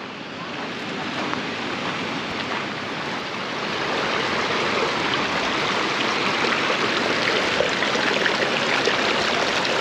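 Rushing water from the Atik waterfalls in Morocco pours in a constant broadband roar, growing slightly louder partway through, with no voices.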